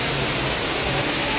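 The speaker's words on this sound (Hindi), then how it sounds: "ये है झरना" The Siyadevi waterfall near Balod pours as a loud, continuous rushing roar heard up close, filling the whole moment without a break or voices.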